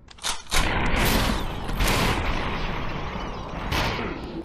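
Dense, loud bursts of gunfire from the VR shooter game SuperHot VR fill the whole stretch, continuous and close with no pauses.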